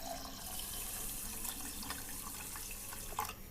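Water runs from a kitchen tap while rice is washed for neer dosa, a steady, close splashing hiss with no talking.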